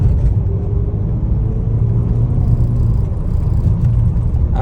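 A car on a test drive after detailing rolls along with a steady low engine rumble and road drone from inside the cabin, loud and continuous, with no talking.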